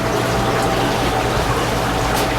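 Water steadily recirculating through a sunroom aquaponics fish setup, trickling and dripping back in from a UV light line, as a continuous, fairly loud wash of running water with no voices.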